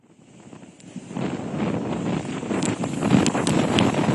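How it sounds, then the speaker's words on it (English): Strong coastal wind at Digha in West Bengal during Cyclone Dana, rising from quiet into a loud, continuous roar of gusts buffeting the microphone, with rustling and flapping bursts on top. "it looks like the winds are very strong even now"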